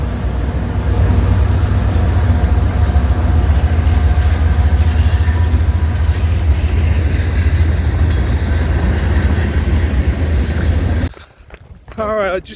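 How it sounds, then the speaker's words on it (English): A train rumbling past close by while someone runs a half-marathon outdoors on a sunny December day, a loud sustained roar with wheel clatter that cuts off abruptly near the end, followed by a short burst of speech. "There's a train!"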